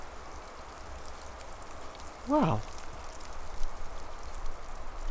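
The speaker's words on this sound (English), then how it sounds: "It's like the rain of pine needles." Pine needles showering down through the trees in a breeze, making a steady, soft rain-like patter outdoors, with a brief exclamation from a voice partway through.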